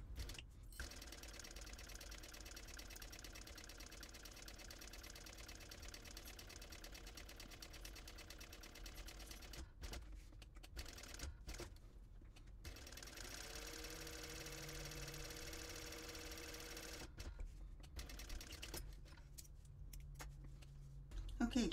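A sewing machine runs in long steady stretches while top stitching a fabric packing cube, with a fast mechanical whir and a few short pauses between runs.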